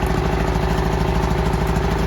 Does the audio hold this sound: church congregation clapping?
no